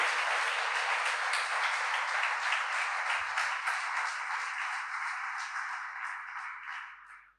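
A church congregation applauding during a service, a broad, continuous roar of many hands clapping that holds steady and then fades out at the end.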